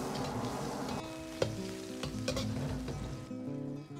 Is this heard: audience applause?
no